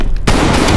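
A SPAS-12 shotgun fires in Call of Duty Black Ops Cold War as a single loud, close blast that lingers as a broad roar of game noise.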